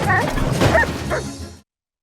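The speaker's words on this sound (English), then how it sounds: "Who is this dog? That would be Dante from Coco." A dog barks and yips several times in quick succession, close and loud, standing in for Dante from Coco, then the sound cuts off abruptly.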